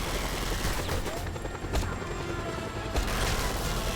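Helicopter and gunfire in the video game Just Cause 2: a dense, continuous roar of rotor noise and bursts of shots with sharp cracks near the middle and end, loud and close, with no talking.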